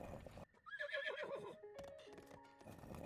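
A horse in the video game The Legend of Zelda: Breath of the Wild neighs in a loud, clear whinny with a few hoof clops around it, close up and with no talking.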